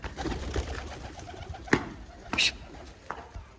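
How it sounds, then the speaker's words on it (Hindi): Pigeons coo softly at close range while a few sharp bursts suggest wings flapping, with faint background noise throughout. "सबको है ना थोड़ा थोड़ा फड़का देंगे अपने कबूतरों को"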